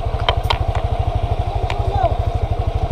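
Motorcycle engine idling nearby with a fast, steady low throb, loud and continuous, while people talk briefly over it.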